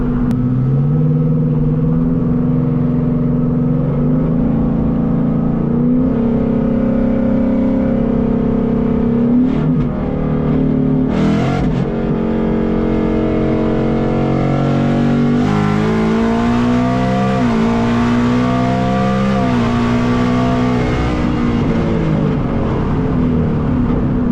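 A Whipple supercharged S650 Mustang GT making over 900 horsepower pulls hard in third gear. The engine roars loud and close, its pitch climbing, with a brief shift break partway through.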